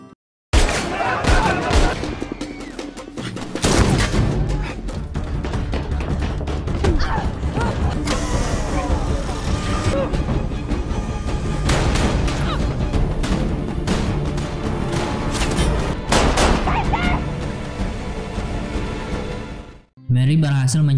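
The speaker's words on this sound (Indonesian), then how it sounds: "Aksi tembak-tembakan pun akhirnya terjadi saat Mes dan Mary sampai di sana." A film gunfight plays loud and dense, with bursts of gunfire, metallic clatter and crashes layered over music and effects, ending in a sudden cut to near silence.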